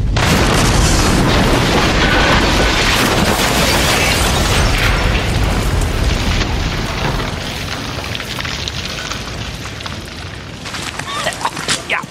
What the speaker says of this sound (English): Well, that was quite a big bang,